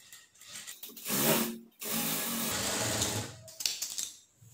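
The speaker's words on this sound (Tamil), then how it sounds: "வச்சுட்டு கால் இன்ச் அளவு தையல் போடுங்க." Sewing machine stitching a quarter-inch seam on a nightdress, two close bursts of rapid whirring hum separated by a short pause, with faint handling noises before and after.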